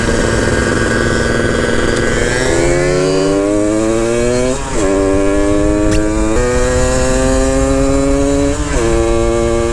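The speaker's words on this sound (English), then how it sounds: "It's fun mobbing around right now and seeing how the MB570 holds up to Chuck's like 72." A 120cc stroker-kitted Honda Elite two-stroke moped revs loud and close while riding. Its buzzy, raspy engine note climbs through several rising revs, dips briefly, then climbs again in repeated surges.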